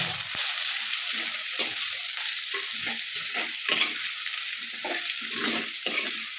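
Sliced onions sauté in a pan for a Palakkad-style chicken curry with ash gourd, a steady close sizzle with repeated scraping stirs throughout.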